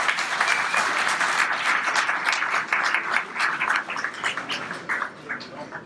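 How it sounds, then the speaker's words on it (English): An audience at a logistics congress breaks into sustained applause. Many hands clap densely and evenly for several seconds, then thin out slightly toward the end, with no talk over it. "Big applause."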